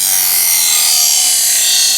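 A kitchen knife drawn across a DIY budget knife sharpener, giving a steady, loud, continuous bright scraping rasp with no pauses and no talking.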